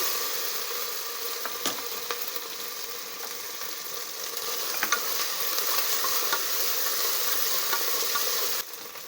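Ginger garlic paste fries in a pan for khichdi, a continuous close sizzle broken by regular scraping strokes of a stirring spoon.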